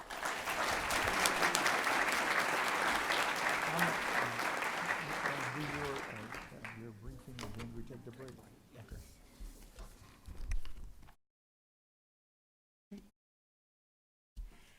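Applause from an audience at a formal school board meeting honoring bronze-level Superintendent Incremental Growth Award recipients, a dense, steady clapping that carries for about six seconds before thinning into scattered claps and murmured voices, then silence.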